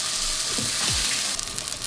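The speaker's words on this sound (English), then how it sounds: "And you hear that sizzle, immediately it starts to cook like a burger." Plant-based burger patty frying in hot oil in a pan, a steady hiss of sizzling with a faint sweep as the patty is set down, close and alone.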